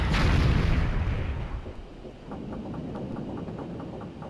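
Heavy cannon bombardment in the video game Skies of Arcadia: a loud, booming barrage that rumbles at first, then thins into a run of rapid, regularly spaced thuds.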